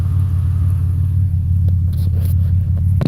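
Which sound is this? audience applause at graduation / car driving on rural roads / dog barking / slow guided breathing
car driving on rural roads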